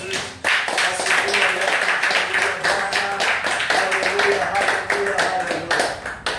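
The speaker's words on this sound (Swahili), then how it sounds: "Tumshangilia Bwana kwa makofi yetu." A church congregation at an overnight prayer meeting claps hands together in praise, dense rhythmic clapping close and loud throughout, with voices and singing mixed in underneath.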